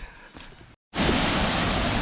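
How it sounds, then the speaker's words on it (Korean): A waterfall in Laos roars as a broad, steady rush of falling water, loud and close after a brief dropout, with a fainter wash of water before the gap. "와 폭포가 보입니다"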